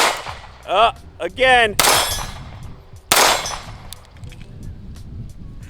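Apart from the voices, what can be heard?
gunshots from pistol with Monsoon Tactical Genghis Komp compensator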